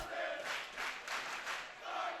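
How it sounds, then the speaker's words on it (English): A home high school boys' basketball crowd in a gym chanting in unison, a rhythmic swell of massed voices repeating a short phrase about four times, moderately distant. "The Ledyard crowd chanting, "Start the buses,""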